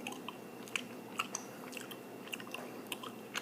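Gum chewed close to the mic in a quiet room, giving soft wet smacks and squishy clicks in an uneven steady rhythm with no talking.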